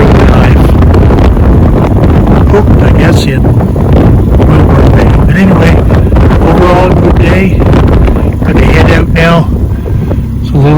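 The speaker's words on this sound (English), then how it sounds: "Wind is up still significantly." Strong wind on a boat roars and buffets the microphone loudly and continuously, with a voice talking faintly under the gusts.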